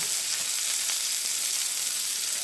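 A beef burger patty sears in a hot pan, producing a loud, unbroken sizzle with fine crackling heard up close and no speech.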